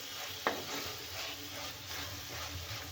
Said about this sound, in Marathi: नरम होईपर्यंत भाजून घ्यायचे तेलामध्ये